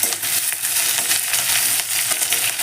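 Slit green chillies frying in hot oil for Andhra-style gongura dal give a steady, close hiss and crackle with small pops throughout, and no talk.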